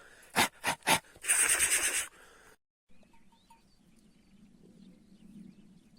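Dog panting while following a scent, a few quick close breaths and a burst of heavy panting, then a quiet stretch with faint background chirps.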